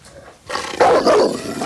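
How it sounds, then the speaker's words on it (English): Dogs barking and growling in a loud, rough burst that starts after a brief quiet and continues as a harsh roar. "Keep those dogs away from me, or I'll have them shot."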